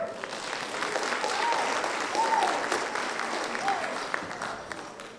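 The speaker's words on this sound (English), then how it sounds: "We have got an awesome crowd out here tonight. Give yourselves a hand." A live audience at a 2022 Hee Haw stage show applauds with dense, steady clapping and a few whistles, loud and sustained for several seconds with no clear speech.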